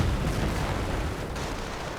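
Dense, rumbling battle noise in a World War II real-time strategy game, continuous overlapping gunfire and artillery blasts forming a loud, unbroken roar across the short span, with no voices.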